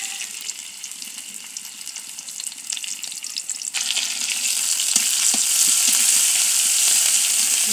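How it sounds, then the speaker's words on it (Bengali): Steady loud sizzling of chopped onions frying in hot oil in a wok, intensifying partway through, with occasional stirring clinks and no talk. "এখানে আমি কড়াইতে পরিমাণ মতো তেল দিয়ে দিলাম। এখন আমি পেঁয়াজ কুচি দিয়ে দিব।"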